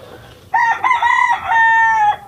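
A single loud rooster crow rings out close by, rising and holding for over a second before cutting off.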